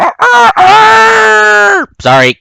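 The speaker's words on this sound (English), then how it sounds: "Applejack heard the rooster crow." A rooster crows loudly and close, a rising cry that is held and then falls off. A short second call follows after a brief gap, and a voice speaks at the start.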